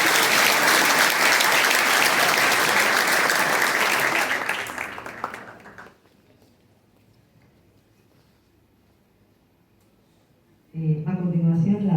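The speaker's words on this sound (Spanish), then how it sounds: "Me parece que hay que darle un aplauso" Applause from an audience at a school commemoration for Malvinas War veterans and the fallen, loud and sustained for about five seconds before fading to near silence, then a voice speaking at the end.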